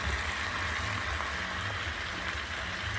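Wine steadily pouring over chicken in a pot for coq au vin, a continuous close liquid splash and gurgle with no talking.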